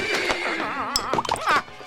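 A cartoon horse bolts and gives a brief, loud, wavering whinny, up close, with a few thumps around it.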